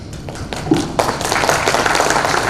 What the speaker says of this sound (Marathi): टाळ्यांचा आवाज जरा जोरात होते